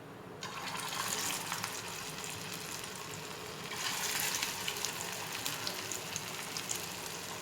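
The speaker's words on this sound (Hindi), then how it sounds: "तो आइए अब मैं इसे फ्राई करती हूँ। मैं फ्राई पैन में ऑयल गरम कर लिए हैं" Beef shami kebabs bound with egg fry in hot oil in a frying pan, giving a continuous bright sizzle that swells louder midway and carries on with faint crackles, with no speech.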